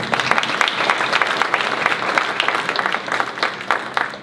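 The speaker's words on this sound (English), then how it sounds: "I do want to give them a quick round of applause" A quick round of audience applause at a community town hall meeting, with steady, moderately loud clapping from a gathered crowd lasting a few seconds without a clear start or finish.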